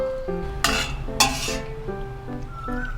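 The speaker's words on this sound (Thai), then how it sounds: "เสร็จแล้วก็ช้อนพวกใบเตยนะคะ ออกให้หมดค่ะ" A ladle scooping pandan leaves out of a pot of sweet tea, with soft liquid sloshing, a couple of bright metallic scrapes and clinks against the pot, close and brief, with no talking.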